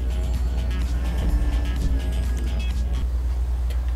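A Lamborghini in GTA 5 Online rumbles past close by with a steady, loud engine roar and tire noise that fades slightly near the end.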